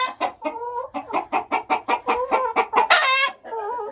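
Hens and roosters clucking in an enclosure, with close, rapid, loud rhythmic clucks and cackles running almost nonstop, rising into a longer squawk near the end.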